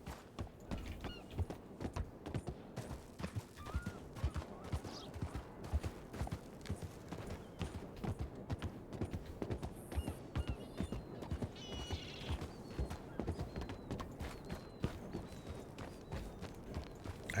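Horse hooves in the video game Red Dead Redemption 2, a fast, steady clip-clop of galloping hoofbeats running throughout, faint and continuous with occasional animal calls in the background.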